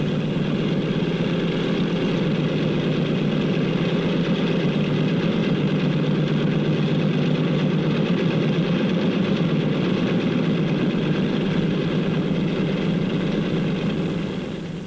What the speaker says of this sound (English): The plane starts over to the runway. There it will wait for its turn to take off.